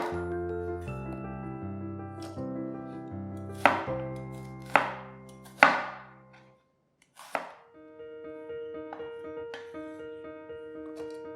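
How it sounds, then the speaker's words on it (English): A knife chops onions into small pieces on a board, a handful of crisp, separate strikes spaced a second or so apart over steady background music. "cut the onions up into smaller pieces"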